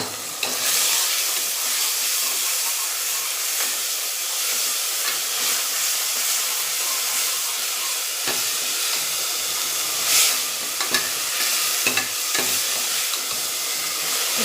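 Onions frying with ginger garlic paste for mutton curry give a loud continuous sizzle and hiss close by, with occasional stirring scrapes throughout, no talking.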